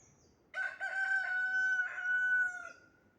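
A rooster crowing once nearby, a single clear, drawn-out cock-a-doodle-doo lasting about two seconds against quiet surroundings.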